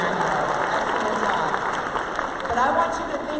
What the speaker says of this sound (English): You can give her a huge round of applause.